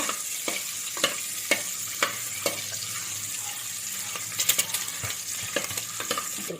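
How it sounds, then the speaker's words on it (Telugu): Eggs frying in oil for egg biryani produce a loud, constant sizzle with a regular series of sharp utensil taps and scrapes, busier near the end. "అదే ఆయిల్లో ఎగ్స్ అయితే ఫ్రై చేస్తుంది అన్నమాట."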